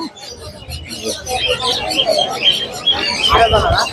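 Caged birds at the Mirpur bird market in Dhaka, including budgerigars and cockatiels, chirp and tweet in a dense, lively chorus close by, with coos and market voices mixed in.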